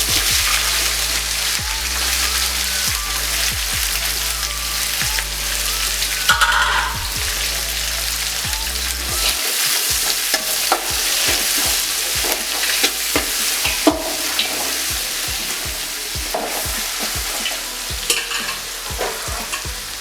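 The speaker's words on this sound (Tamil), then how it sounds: "வெங்காயம் நல்லா வதங்கிடுச்சு." Onions sautéing in a pan for Ramanathapuram-style prawn biryani, giving a steady close sizzle throughout, with repeated spoon-stirring scrapes and knocks against the pot and a low hum that stops partway through.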